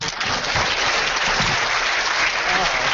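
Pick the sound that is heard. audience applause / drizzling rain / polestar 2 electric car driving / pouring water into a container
audience applause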